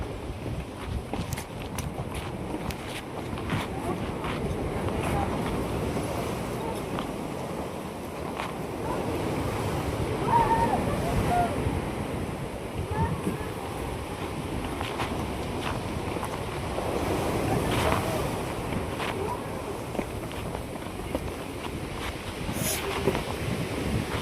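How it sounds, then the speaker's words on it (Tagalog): Heavy ocean surf at Mauban, Quezon roars continuously, waves rolling and breaking with gusty wind noise over the whole stretch. "Lakas ng alon. Grabe lakas naman"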